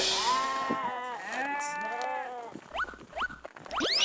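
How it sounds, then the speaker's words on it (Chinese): A sheep bleats loudly and repeatedly nearby, long wavering calls followed by shorter cries, with some faint rustling between them. "经过一轮激烈的围追堵截，敖奇和八哥把50多斤的天选之绵羊带走。"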